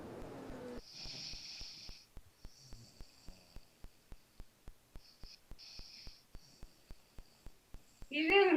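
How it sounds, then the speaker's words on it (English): A person snoring while asleep, with soft regular snorts and breaths repeating roughly every third of a second under a faint hiss, ending in a louder burst. "Snoring."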